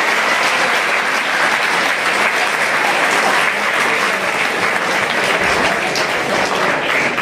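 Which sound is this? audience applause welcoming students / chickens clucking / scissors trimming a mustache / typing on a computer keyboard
audience applause welcoming students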